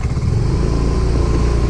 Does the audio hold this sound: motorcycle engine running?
yes